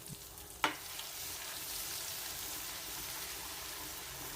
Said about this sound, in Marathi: हे वाटण दोन ते तीन मिनटं छान तेल सुटतपर्यंत परतवून घेऊ